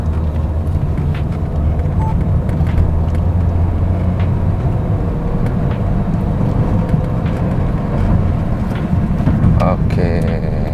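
A Honda car accelerating hard at high speed during a test drive after a transmission overhaul, with a steady loud engine and road rumble filling the cabin throughout and some talk under it.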